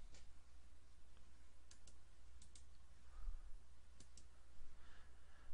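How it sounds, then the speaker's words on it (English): Faint computer mouse clicks while navigating an Enterprise Vault admin console, single and double clicks scattered a second or so apart, quiet and close over steady background hum. "we'll right-click the Vault Store group and then click Properties"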